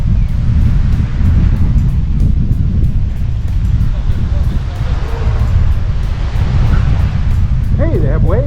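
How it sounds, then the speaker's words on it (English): Strong wind buffets the microphone on a sunny island beach, with waves washing ashore under a constant low rumble and a voice briefly heard near the end. "Waves on this side, I guess because of the wind."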